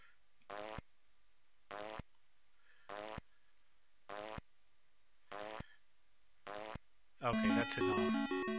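Six short, evenly spaced buzzy fart blips from a Game Boy video game, each about a third of a second long, then a loud burst of chiptune music to close; no talking.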